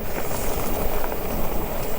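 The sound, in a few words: wind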